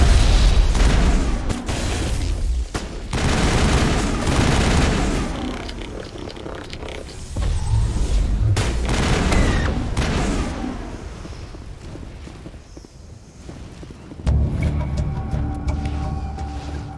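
Heavy crossfire in the video game Mass Effect: loud booming shots and blasts in bursts, some fading into quieter stretches before another sharp volley near the end.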